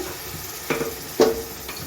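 Water poured into a pan of oily fried masala for a fish curry with cauliflower and potato produces two short, faint sizzling bursts about half a second apart, with quiet stillness around them.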